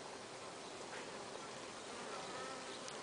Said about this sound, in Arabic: النحل يقوم بعملية الفرفرة أو عملية الرفرفة، وهذا لإنقاص نسبة الرطوبة داخل الخلية